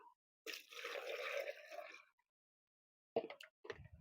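Water poured from a container onto potted plants, a close splashing trickle lasting about a second and a half, then silence, followed by a few short drips and splashes.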